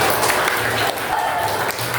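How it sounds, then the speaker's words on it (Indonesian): A classroom audience claps in applause for a student group's finished work during a teacher-training lesson, a steady dense patter of many hands lasting the whole moment. "Silakan kita beri tepuk tangan."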